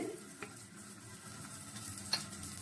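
Turmeric and cumin powder go into hot oil on low heat while cooking ol with prawns, a faint quiet sizzle with a couple of light stirring clicks and no talking.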